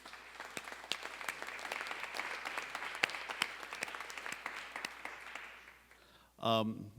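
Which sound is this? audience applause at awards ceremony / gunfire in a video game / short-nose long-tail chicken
audience applause at awards ceremony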